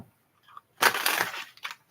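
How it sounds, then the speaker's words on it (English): Tarot cards being shuffled by hand: one short, soft papery riffle burst that stands alone in an otherwise quiet room. "Last shuffle."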